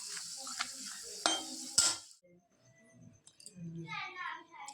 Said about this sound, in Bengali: একটু পাঁপড় ভেজে নিচ্ছি, চায়ের সাথে খাবো আর কি